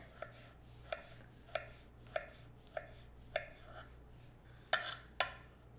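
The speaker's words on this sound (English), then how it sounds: "take my knife and do the same thing, cut it down, and then slice it out" A kitchen knife cuts down through and slices a fibrous ingredient on a board, making about ten sharp, evenly spaced taps nearby, with the last couple heavier.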